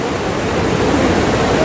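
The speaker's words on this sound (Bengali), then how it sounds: "কি দারুণ লাগছে দেখো ঝর্ণাটা।" A waterfall beside the mountain road to Lachen in North Sikkim, a dense, steady roar of falling water heard close and loud, unbroken for the short moment.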